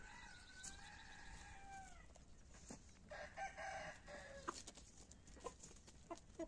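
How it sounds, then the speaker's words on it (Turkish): A five-month-old young rooster attempts a few hoarse, cracking crows, thin and strained, among soft clucks and rustling nearby. "ötmeye çalışıyorlar, böyle kısık kısık ötmeye çalışıyorlar"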